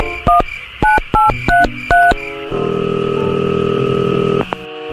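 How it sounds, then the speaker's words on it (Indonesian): A telephone being dialed in an Indonesian comedy drama: five short, loud DTMF keypad beeps in an uneven rhythm, followed by a steady ringback tone lasting a couple of seconds, with no talking. "Dulu gua telepon lu ya"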